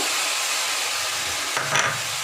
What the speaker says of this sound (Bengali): এবার যে ক্যাপসিকামগুলো কুচিয়ে রেখেছিলাম সেই ক্যাপসিকামগুলো দিয়ে দেব